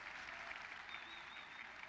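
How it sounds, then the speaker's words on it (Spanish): Audience applauding at an event, a steady patter of clapping heard faintly at a distance, with a thin tone running through part of it. "Miren cómo la aplauden."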